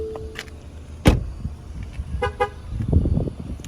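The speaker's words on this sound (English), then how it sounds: "I had a double beeps to let you know that you have your key in your pocket and the car's still running" A car gives a double warning beep because the key has left the cabin while the engine keeps running: two short electronic tones close together, with a thump and faint rustling around them.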